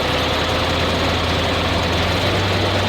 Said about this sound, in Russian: Глуши мотор.